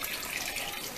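Water poured into a pot of freekeh soup, a close, steady splashing and gurgling stream that runs unbroken through the brief moment.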